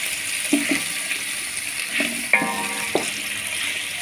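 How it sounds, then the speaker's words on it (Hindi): Onions frying in about half a kilo of oil in a large pot, a steady soft sizzle running throughout with a few brief clinks of stirring near the start and middle. "प्याज को हमने अच्छे तरीके से ब्राउन करके निकाल देना है।"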